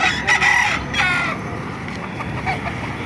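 Chickens cluck loudly close by at a poultry market in Baliuag, Bulacan, with a rooster crowing among them and more clucking trailing off.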